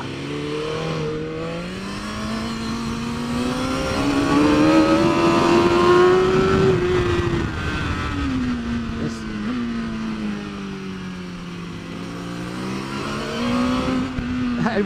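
A BMW S1000RR superbike at full song on the Mission Raceway track during a race-day morning warm-up, its loud, close engine wailing continuously with pitch climbing and falling through gear changes and corners.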